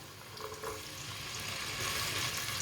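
Chopped onion and garlic frying in half a cup of oil for a Punjabi shalgam curry, a dense steady sizzle close up that swells slightly, with no talking.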